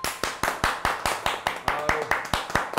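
Rhythmic clapping by a small group, about a dozen sharp, evenly spaced claps close by in a talk-show studio setting, with a voice briefly heard alongside.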